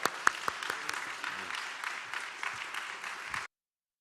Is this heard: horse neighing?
no